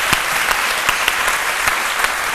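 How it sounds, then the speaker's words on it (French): Studio audience at a French-language midday TV talk show claps loudly and steadily, a dense wash of hand claps with a few sharper peaks standing out, no voices over it. "on applaudit très fort, docteur Philo"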